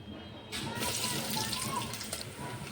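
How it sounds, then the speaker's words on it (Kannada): Green chillies and onions fry in hot oil with a steady crackling sizzle that starts suddenly and holds at an even level, close by, while a person talks over it. "ಈಗ ನೋಡ್ರಿ ಇದು ಚಂದನತ್ತ ಫ್ರೈ ಆಗತ್ತೆ"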